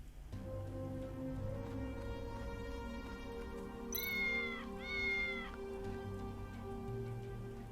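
Two drawn-out meows from a cat in the video game Tales of the Neon Sea, close and clear, one after the other over a soft rainy ambient backdrop and low music.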